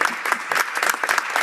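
Parliamentary applause in the Canadian House of Commons: steady, dense clapping from many members, loud and close, filling the whole short stretch without speech on top.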